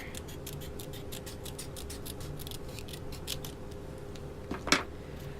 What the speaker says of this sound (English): Use the smaller scissors to get in there better.